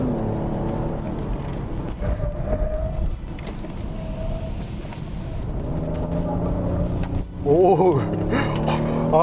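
A Genesis GV80 SUV with a 3.5 turbo gasoline engine accelerates uphill, its steady engine drone rising and falling beneath continuous close-up talk from a person in the cabin.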